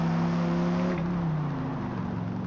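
Engine drone of a race car in Forza Motorsport on the Bathurst circuit in the rain, a steady close motor hum that dips in pitch as it slows off the track.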